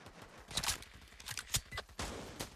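A quick volley of sharp, clicky gunshots rings out in a VR video game, several cracking pops spaced irregularly over a couple of seconds against a noisy background.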